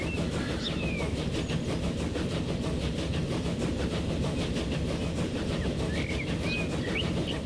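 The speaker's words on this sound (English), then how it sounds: "Should we take a bit of a ride from the front of the train?" Steady rumble of a train riding along in the Transport Fever game, a continuous rolling drone with faint bird chirps scattered on top and no voices.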